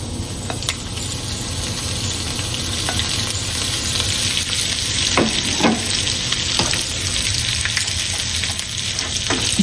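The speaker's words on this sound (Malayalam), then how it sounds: "പച്ചമുളകും നമുക്ക് ഇതേപോലെ ഒന്ന് വറുത്ത് കിട്ടണം." Green chilies and ginger sizzle and fry in a pan, a loud, steady crackle with occasional stirring scrapes throughout and no voices.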